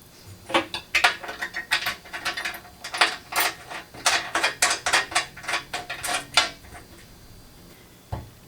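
Bolts with washers and lock washers being tightened while a Harbor Freight dust collector is assembled, a rapid run of close metallic ratcheting clicks in quick bursts, then a single dull knock near the end.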